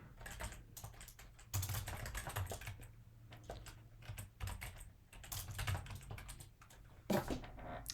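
Steady typing on a computer keyboard while code is entered, a continuous close patter of key clicks with occasional louder strokes and brief pauses, no speech over it.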